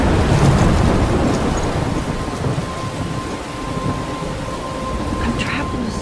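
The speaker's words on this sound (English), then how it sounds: "I'm trapped in a storm?" Thunderstorm in the Life is Strange video game: steady heavy rain with rolling thunder rumbling throughout, loud and dense, with no one talking.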